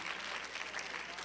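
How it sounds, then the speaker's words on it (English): A church congregation clapping their hands during a sermon, a brief, soft burst of many hands with faint crowd noise underneath. "I dare you to clap your hands even right now."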